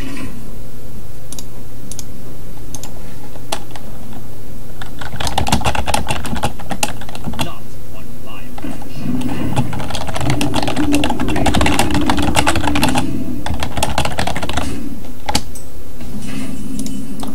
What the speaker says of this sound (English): Sorry for the typing.